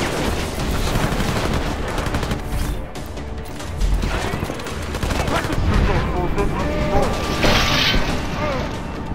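Video game combat with Adam fires off a dense barrage of gunshots and mechanical clatter, loud and continuous with crashes and whooshes layered throughout.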